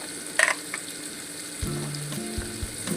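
Green beans and carrots fry in hot oil with spices, giving a soft, low sizzle. A brief clatter comes early, then a few dull knocks and scrapes of a spoon against the pan.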